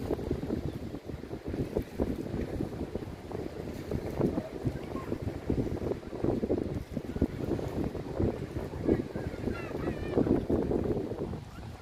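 Strong wind buffets the microphone at Phala Beach in Ban Chang, Rayong, a steady loud roar with gusty rumbling that continues throughout without a break.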